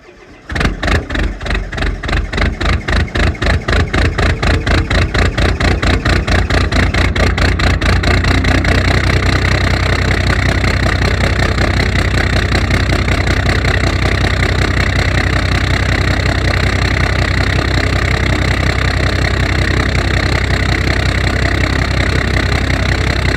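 Engine cold-starting on a cold morning without an intake heater: a rapid cranking cycle that catches and settles into a loud, steady, close idle that runs unbroken to the end.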